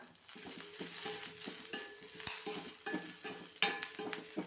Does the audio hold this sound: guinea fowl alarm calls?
no